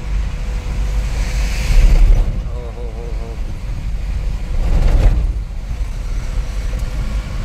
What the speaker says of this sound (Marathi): पाऊस तर भरपूरच पडतोय